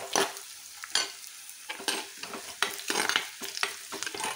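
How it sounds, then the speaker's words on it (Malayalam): Onions and curry leaves fry in oil for a fish curry while being stirred, producing bursts of sizzle and scraping stir sounds in uneven pulses, close and moderately quiet, with no talking. "നമ്മളുടെ വാളക്കറിക്കുള്ള ഉള്ളി അങ്ങനെ മൂത്ത് മൂത്ത് വരുന്നുണ്ട്"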